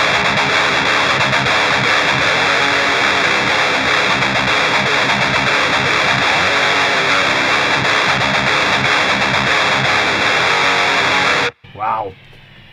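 Heavily distorted electric guitar played through a Peavey 6505+ amplifier set for nu-metal, a loud dense wall of sustained high-gain chords that cuts off abruptly near the end, followed by a brief quieter snippet.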